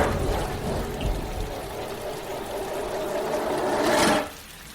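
Steady hiss of rain pouring down outdoors on a hilly boardwalk street, a dense broadband wash lasting several seconds before cutting off abruptly near the end; no voices.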